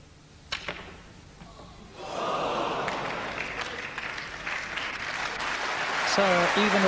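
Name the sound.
applause at snooker match for a 113 break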